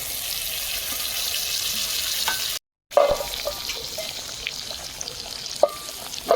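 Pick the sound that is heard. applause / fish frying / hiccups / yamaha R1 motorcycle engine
fish frying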